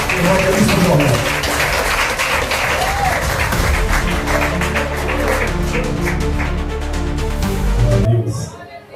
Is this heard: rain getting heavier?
no